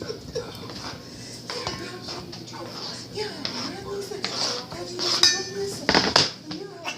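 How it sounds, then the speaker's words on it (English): Tomatoes for spaghetti are placed into a bowl, with scattered clinks and knocks of dishes and utensils coming and going beneath steady talk, growing louder and busier toward the end. "now that we have the tomatoes, we're going to put them in a bowl"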